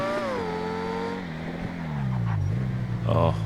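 A Ferrari engine in GTA V Online, driven with a steering wheel, hums with steady harmonic tones that shift in pitch as it revs and settles, then climbs again at the end.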